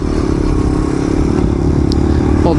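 A motorcycle engine with carburetor trouble revs hard and loud, close by. It gives a dense, continuous roar throughout with some clatter and no speech.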